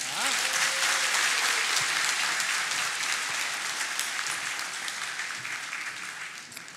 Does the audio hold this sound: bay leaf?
no